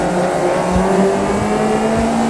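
Race car engine in a racing video game revving hard and accelerating, a steady loud continuous drone with rising harmonics and no talk.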